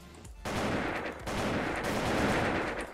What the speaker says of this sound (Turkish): AK-47 öf kardeşim